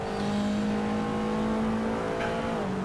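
An Alfa Romeo Giulietta TCR race car accelerates hard on track at Imola, its engine a loud, steady, close-up drone with strong harmonic tones that climb slightly near the end.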